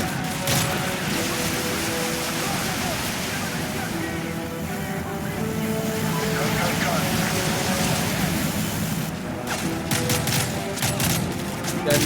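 Dense rapid gunfire rattles in a Call of Duty: Modern Warfare 3 battle, loud sustained bursts over a rumbling background, with a sharper flurry of shots near the end.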